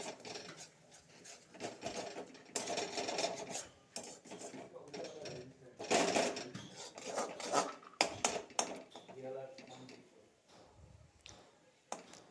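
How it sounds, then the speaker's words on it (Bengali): Bottle gourd leaves fried with onion, garlic and chilli are stirred in a pan, giving a continuous scraping, rasping sizzle with uneven bursts of louder stirring throughout, close and moderately loud. "জলটা একদম শুকিয়ে দিতে হয় তেল বেরোয় যায় এভাবে লাড়াচাড়া করতে হয়"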